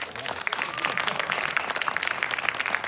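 A crowd audience at a podcast Q&A panel at a retro gaming expo breaks into loud, sustained clapping and cheering, a dense wash of applause filling the room for several seconds.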